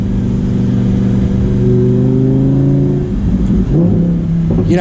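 A Lamborghini Huracan Performante in Corsa mode accelerates hard from inside the car, its loud engine note rising steadily before shifting and climbing again near the end.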